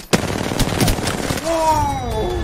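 Gunfire in a video game, a quick series of sharp shots followed by ringing whizzing tones, with people talking over the action.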